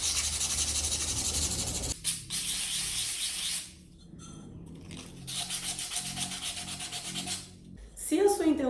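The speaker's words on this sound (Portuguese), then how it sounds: "Se for, a gente vem e lixa." A ceramic mug being smoothed by hand with sandpaper before firing, heard as close, rhythmic rasping strokes in several bursts separated by short pauses, with a faint clink near the end.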